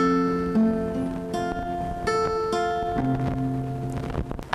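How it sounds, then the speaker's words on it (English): Guitar notes plucked one after another on the second and fifth strings of a chord, clear and close, several ringing tones overlapping with no talk. "Now I want you to pluck the second string and then the fifth string."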